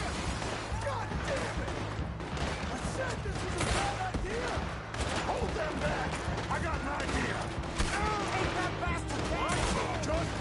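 Gunfire rattles almost without pause in a Red Dead Redemption 2 shootout during a riverboat heist, dense cracks layered over shouting voices that keep talking throughout.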